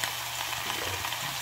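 Pork chops frying in a pan for Filipino pork chop adobo, with onion and ginger: a steady, close, moderate hiss and crackle of sizzling oil that runs unbroken under a low background hum.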